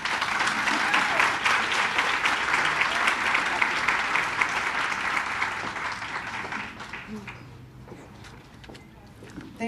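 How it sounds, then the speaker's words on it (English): An audience at Rialto's State of the Women 2012 event gives Mayor Grace Vargas a round of applause, dense sustained clapping that gradually thins out and fades toward the end. "So give Mayor Grace Vargas a round of applause"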